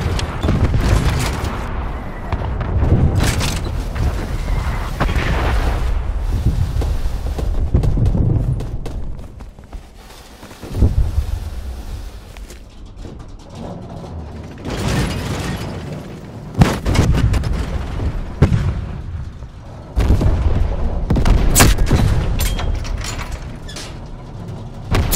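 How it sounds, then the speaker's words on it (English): Artillery explosions in the video game Call of Duty Black Ops Cold War, tank gameplay with deep booms and rumbling impacts spaced through the scene, some loud and sudden, over continuous engine and battle noise. "Artillery targeting detected."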